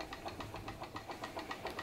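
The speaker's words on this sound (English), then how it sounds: "Sounds like an engine under load working." Stirling solar engine running slowly under load while turning a Baker fan, a steady rhythmic knocking of about eight beats a second, close and even, with no talk.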